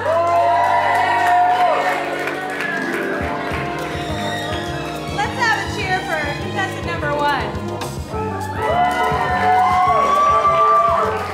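A game show studio audience cheers on the contestants with whoops and shouts. Loud voices and tonal sounds mix with the crowd, and the cheering swells at the start and again near the end.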